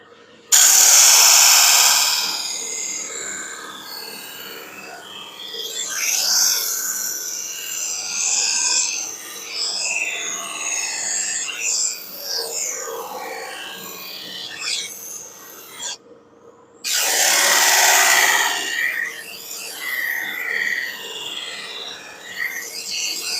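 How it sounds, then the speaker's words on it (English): A soft polishing mop buffs wax into a wood veneer door capping for an MG GT, producing bursts of rushing, hissing friction noise that come and go, with a short pause midway. "Then I'm going to buff it up to bring it to a mirror finish."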